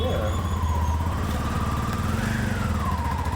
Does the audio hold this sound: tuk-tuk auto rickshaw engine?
yes